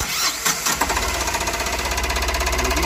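A Tata Ace Mega XL small diesel truck engine with low rail pressure fault code P0087 cranks briefly, then settles into a steady, loud running rattle with a constant low chugging rhythm, close by.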